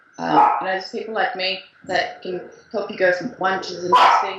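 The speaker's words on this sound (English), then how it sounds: "That's my dog." A dog barks in the background while a person speaks, with the barks mixed under and between the talk.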